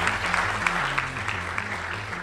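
A Press Club audience breaks into steady, sustained applause welcoming FCC chairman Tom Wheeler, many hands clapping at moderate volume over a low musical hum.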